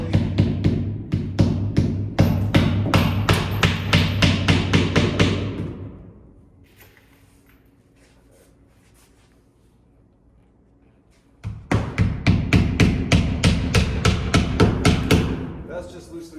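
Rapid series of hammer blows tacking a window's nailing flange in place during a window installation, sharp and close, then a pause of several seconds before another quick run of hammering.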